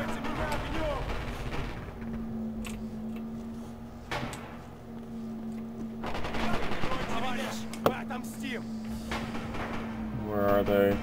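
Gunfire in the World War II shooter Red Orchestra 2: Rising Storm, several scattered shots and short bursts at moderate distance over a steady in-game hum, with a player talking over the action.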